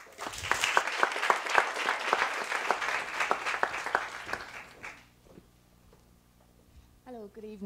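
Audience applause at a university research presentation evening, crisp individual claps forming a lively burst that fades out after about five seconds, followed by a quiet room with a voice starting to speak.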